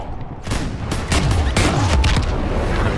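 Gunfire in the video game Call of Duty: World War II, a loud sustained fusillade of overlapping rifle and machine-gun shots with heavy booming impacts.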